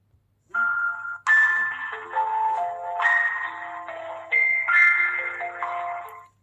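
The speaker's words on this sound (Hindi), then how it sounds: "आपकी वॉच करेगी वाइब्रेट 3 बार और उसमें बजेगा टोन।" Find-watch alert tone from a Fire-Boltt Hercules smartwatch: a bright electronic melody of stepped, sustained chime-like notes in several phrases, steady and fairly close, with no talk.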